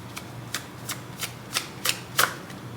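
Tarot cards being shuffled by hand in a quiet room, several quick riffling bursts in a loose rhythm, close and soft.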